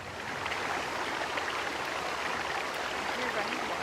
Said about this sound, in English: Oh, this is a waterfall.